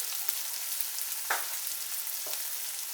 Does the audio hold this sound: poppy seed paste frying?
yes